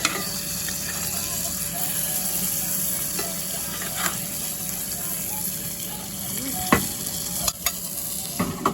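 Thick burgers sizzle steadily on a wood-fired grill at a Fourth of July cookout, a loud continuous frying hiss with occasional clanks and scrapes as they are handled, no talk.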